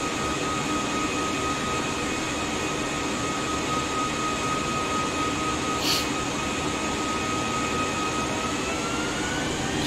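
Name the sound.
small plane in flight from Queenstown to Christchurch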